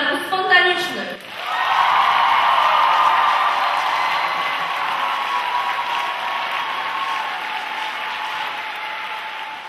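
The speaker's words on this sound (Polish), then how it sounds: "Wielkie brawa dla jury problemów spontanicznych!" An indoor audience applauds the jury at a spontaneous-problem-solving competition. After a brief spoken introduction, loud, sustained clapping fills the room and slowly eases off.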